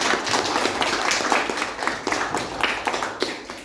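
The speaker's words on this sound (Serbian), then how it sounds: "Može jedan aplauz za gostima" A classroom crowd of first-graders and adults applauds the guests with dense, continuous clapping that holds steady for a few seconds.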